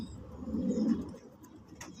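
Low, soft cooing from a pigeon being bathed, a murmuring burst that swells and fades over about a second, with faint rustling and water splashing around it.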